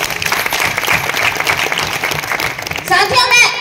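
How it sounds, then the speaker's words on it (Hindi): Audience applause at a community conference in Rohtak, a dense patter of clapping with a voice and other voices mixed in, louder toward the end. "एक बार आप सभी लोग अपने लिए तालियां बजाएं।"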